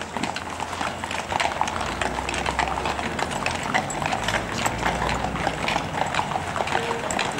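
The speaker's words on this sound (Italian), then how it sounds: "queste sono le carrozze trainate da cavalli" Hooves of a carriage horse in Pontresina ring out as a quick, even clip-clop nearby, with a steady low rumble of wheels underneath and little talk.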